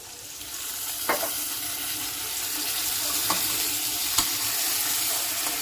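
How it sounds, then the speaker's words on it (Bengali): Pointed gourd sautéing with poppy seed paste and a splash of water makes a continuous soft sizzle, broken by a few sharp clicks of a spatula against the pan. "পোস্তর সঙ্গে পটলগুলোকে খুব সুন্দরভাবে মিশিয়ে নেব, খুব সুন্দরভাবে কষিয়ে নেব।"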